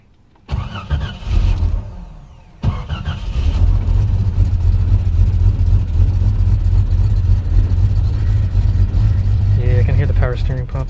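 A 1989 Jeep Cherokee engine cranks, catches and then holds a loud, steady rev close by, with a brief pause before it fires and a voice talking near the start.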